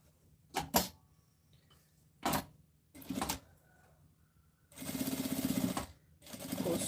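Sewing machine stitching fabric while a bag is made, running in short separate bursts and then one longer steady run, close by with no voices.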